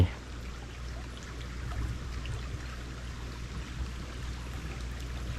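Water flowing steadily at a fish-catching spot during the spawning run, a continuous low rushing and gurgling that stays even and fairly quiet, with no voices.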